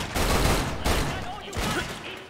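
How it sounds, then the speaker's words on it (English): A video game grenade goes off in a sequence of sharp, broadband blasts, with three distinct bursts landing roughly a second apart over a loud, rumbling backdrop. "Oh my gosh, I threw a grenade at myself."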